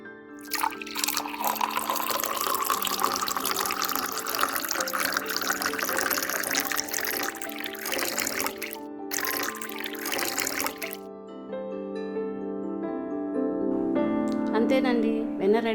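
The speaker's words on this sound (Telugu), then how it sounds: "ఆ వాటర్ వేస్తూ కడగండి అన్నమాట." Cool water poured over homemade butter while washing it, a continuous trickling and splashing that runs for several seconds, with tonal voice-like sounds layered over it.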